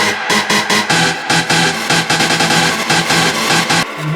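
A dense, pulsing techno beat smeared by a washout effect in Ableton, its rhythmic bursts blurring into a noisy wall of sound.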